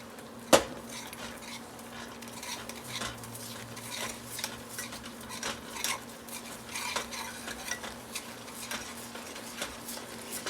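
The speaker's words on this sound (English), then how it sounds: "I'm just stirring it to get the lumps out pretty much." Spoon repeatedly scraping and clinking around a pot of meatball soup, a soft irregular stirring rhythm over a faint low hum, with one sharp knock near the start and no voices.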